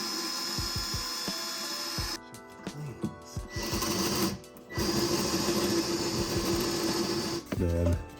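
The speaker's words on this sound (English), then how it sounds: "I just drilled from this side and made a clean circle" Power drill driving a paddle bit through wood: a loud, close whirring grind in stretches broken by short pauses and clicks, with a rough ripping texture as the bit tears through.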